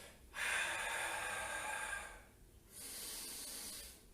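Two long breaths during a home Pilates exercise, the first a strong airy exhale of about two seconds, the second a softer breath after a short pause, both close and breathy.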